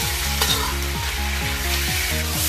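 Eggs frying in hot oil in a wok, a loud close crackling sizzle with rhythmic scraping strokes of a spatula repeating every half second or so.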